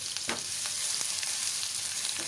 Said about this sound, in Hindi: मैंने तेल गरम की अब इसमें हम ग्रेट करी हुई अदरक डालेंगे थोड़ा सा लहसुन डालेंगे